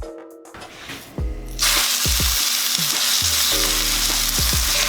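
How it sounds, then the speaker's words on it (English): Turkey legs drop into a hot cast iron skillet with a few clunks. A loud, bright sizzle follows and holds steady, with occasional knocks of metal against the pan. "get a good sear on these turkey legs"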